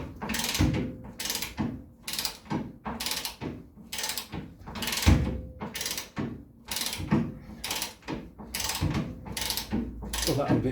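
A hand ratchet clicks in repeated bursts while tightening suspension shackle bolts on a Land Rover, about a dozen close, loud strokes in a steady rhythm with brief pauses between them.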